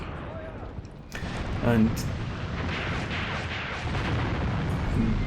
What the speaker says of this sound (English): That artillery is going to cause us some problems.